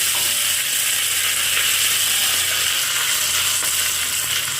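Dried chillies and curry leaves sizzle loudly in hot oil for peanut chutney tempering, a steady, dense crackling hiss that fills the whole stretch without pause.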